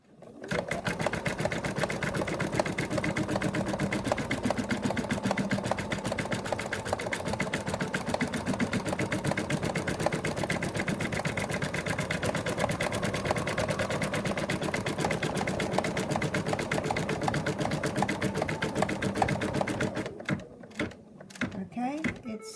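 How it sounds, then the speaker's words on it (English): Embroidery machine stitching continuously for about twenty seconds, a fast steady needle rhythm that stops near the end, leaving a few clicks and handling sounds. "then we're going to continue stitching"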